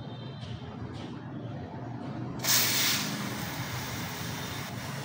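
Cleaner sprayed from a can onto the chain of a 2024 Raider 150 FI motorcycle: a single loud, bright hiss bursts out and trails off, preceded by a couple of faint short puffs over low background noise.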